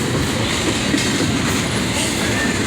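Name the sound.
train slowing to a stop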